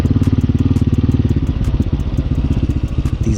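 A Honda Hawk 250cc dual sport motorcycle rides over bumps and dips in the city, its engine pulsing in a rapid, loud, throbbing beat close to the rider, with a brief rattle and a dip in rhythm midway.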